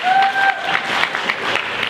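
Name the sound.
audience applause for a panelist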